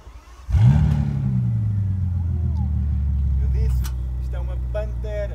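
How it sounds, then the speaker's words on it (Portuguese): A Bentley Continental GT's W12 engine cranks and fires with a sharp bark, then settles into a deep, steady idle rumble; voices murmur faintly toward the end. "Vamos fazer agora o startup do carro para vocês ouvirem o ronco desta Pantera autêntica"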